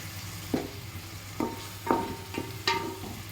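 Fish frying in a pan, with five distinct scraping or stirring strokes at a steady pace over a low background hum and a soft sizzle.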